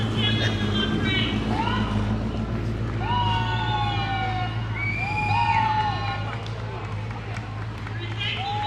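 A volunteer ambulance in a Norwegian Day parade in Brooklyn sounds its siren in repeated rising and falling wails, mixed with a crowd's roar and an announcer talking over a public address system.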